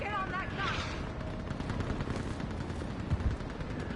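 Rapid automatic gunfire in a Mass Effect 3 battle, dense continuous bursts close up with booming impacts, while voices shout orders over the shooting.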